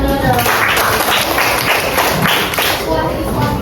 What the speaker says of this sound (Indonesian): Jadi tepuk tangan dulu dong.